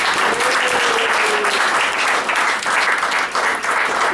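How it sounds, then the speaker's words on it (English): A panel discussion audience gives a steady, loud round of applause, dense continuous clapping throughout with no break. "Round of applause, please"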